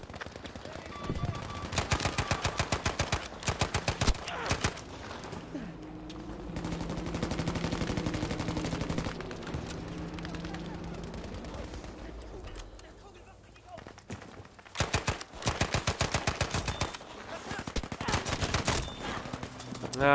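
Rapid automatic gunfire in the shooter game Battlefield 5, loud close bursts at the start and again near the end, with a quieter spell of ambient noise and a voice talking between them.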